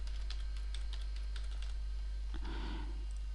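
Quick keystrokes tap on a computer keyboard while working in Microsoft PowerPoint 2010, a close run of light clicks followed by a duller thump near the end, with no voices.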